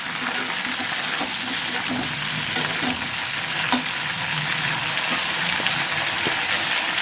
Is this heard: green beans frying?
yes